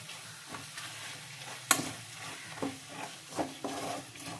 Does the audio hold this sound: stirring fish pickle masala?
yes